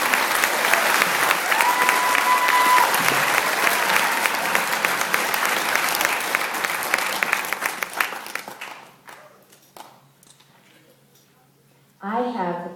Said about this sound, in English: let's give them a big round of applause for a job well done